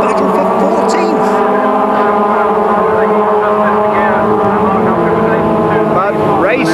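Rover race cars from the 1991 season battle side by side down a straight, several engines blending into a loud, sustained roar with shifting harmonic tones as they accelerate, under steady commentary talk.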